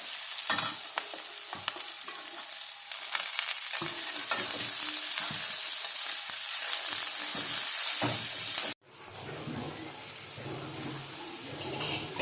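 Bottle gourd stir-fry with ginger and green chilies sizzles steadily in a pan while being stirred, with scraping strokes throughout, a brief cut near the end, then continued frying.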